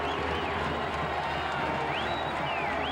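Steady roar of a large outdoor crowd at a 1989 Clemson versus Duke college football game in a stadium, a continuous broad wash of voices and cheering held at an even level, with faint whistle-like tones rising above it.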